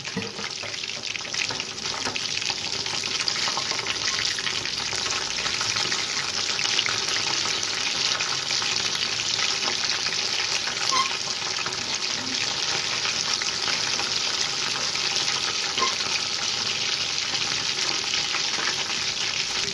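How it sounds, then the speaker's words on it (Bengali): Lote fish fritters fry in hot oil as they are turned one by one, a steady broadband sizzle running evenly throughout with faint scraping touches and no talking. "এক এক করে বড়াগুলো উল্টিয়ে দিই।"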